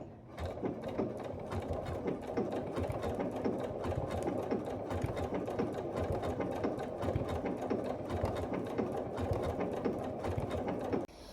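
A sewing machine stitches a fabric Christmas tree quilt, giving a steady, fast mechanical chatter of rapid needle strokes close up that runs continuously and stops near the end.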